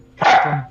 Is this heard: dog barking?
yes